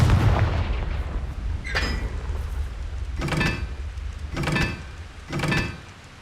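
Confringo fire spell blasts in the game Hogwarts Legacy: four sharp explosive bursts spaced about a second apart, each with a bright crackling tail, over a low ambient rumble.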